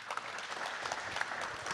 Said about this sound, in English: So please give him a loud round of applause again.